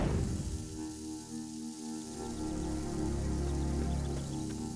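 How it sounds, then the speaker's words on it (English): Steady patter of rain with a soft continuous hiss, fairly even throughout and heard alone without voices. "I sure hope the rain stops soon"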